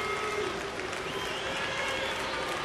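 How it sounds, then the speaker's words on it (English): A baseball stadium crowd of Cincinnati and Houston fans cheering and applauding for Jay Bruce, a sustained roar with a tonal, drawn-out chant underneath and a distant broadcast voice mixed in. "that is the Bruce cheer that we're hearing"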